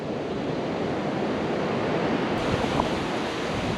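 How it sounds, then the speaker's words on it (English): Ocean waves wash onto Gillam's Beach on Research Bay in Far South Tasmania, a continuous broadband surf roar with some wind buffeting on the microphone and no voices. "This is Gillam's Beach on the shores of Research Bay in Far South Tasmania."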